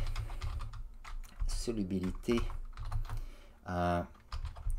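Bursts of typing on a computer keyboard, quick clusters of close key clicks separated by short pauses, with a voice speaking briefly in between.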